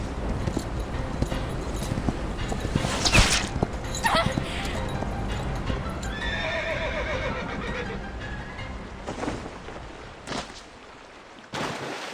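A horse neighs and whinnies amid galloping hoofbeats during an action scene in the game Reverse 1999, the calls cutting through a busy, continuous background with occasional voices nearby.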